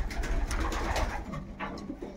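Pigeons at a pigeon loft coo softly in low, throaty, repeated calls, close by, with light rustling and wing flutters mixed in and no speech.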